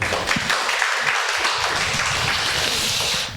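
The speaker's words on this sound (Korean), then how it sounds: "박수로 하나님께 영광을." A church congregation applauding during a Korean worship service, a continuous, fairly soft patter of many hands that stays even and fades near the end.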